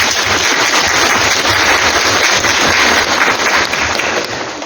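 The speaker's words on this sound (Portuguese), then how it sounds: "vamos dar uma salva de palmas a ele" A church congregation at a Santo Isidoro feast-day Mass in São Domingos do Sul gives a guest a dense, sustained round of applause that fills the room and tapers slightly at the end.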